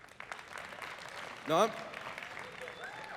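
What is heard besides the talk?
audience applause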